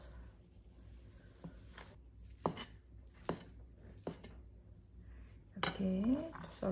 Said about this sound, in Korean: 이렇게 썰어 두고요